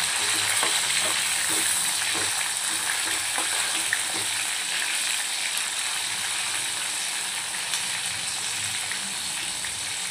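Tomatoes go into frying onions for a Hyderabadi mutton masala curry, and the pan gives a steady, close hissing sizzle with a few faint scraping stirs, no voices.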